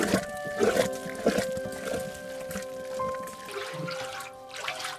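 Hands churning raw shea butter paste in water in a village, giving soft irregular sloshing and splashing strokes that come in uneven bursts over a constant low hum.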